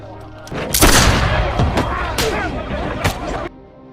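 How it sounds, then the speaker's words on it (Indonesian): Loud sharp gunshot blasts in an action film as a man shoots a gang member in the leg at the Fung Hai gang's headquarters. Three or four cracks ring out over a dense, busy soundtrack. "dia tembak kaki salah satu anggotanya"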